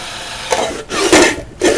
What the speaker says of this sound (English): you get to see some more sloppy drilling